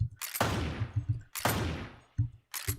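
Gunshots in the Western video game Westerado ring out as three sharp, loud reports with long decaying tails, separated by short gaps, along with a few low thuds.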